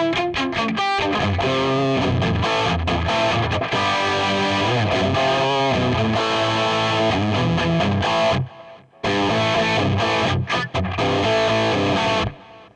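Distorted electric guitar on the bridge humbucker runs through an RP1000 effects unit with heavy plate reverb and tape delay. It plays loud, sustained lines, drops out briefly near the end, then comes back in.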